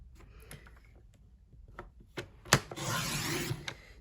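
A paper trimmer cuts a sheet of patterned paper down to 4 inches: a few light clicks and taps, then a sharp snap and about a second of steady rasping as the blade slides along, close and fairly quiet.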